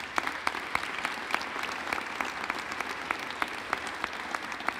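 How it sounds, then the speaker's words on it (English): A cancer research summit audience breaks into sustained applause for researchers, many hands clapping in a dense, even roar with occasional sharper claps standing out. "How about a special round of applause for all these great researchers?"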